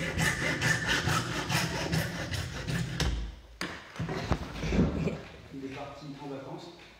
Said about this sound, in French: là je mets ma petite scie dessus et je coupe